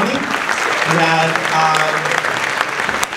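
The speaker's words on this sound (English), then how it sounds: "Please give another round of applause for the solos." Audience applause for the soloists at a high school mid-winter orchestra concert, a brief burst of clapping with voices and a few sustained tones audible beneath it.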